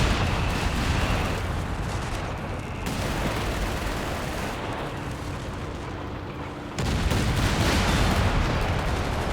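Continuous dense rumble of artillery shells and explosions from a Company of Heroes 3 match, loud and sustained throughout, with a sharp surge of fresh impacts near the end and no talk.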